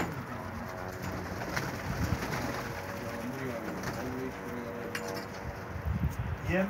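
Pigeons coo repeatedly at their coop in soft, low rolling calls, several birds overlapping, with faint background voices and rustling.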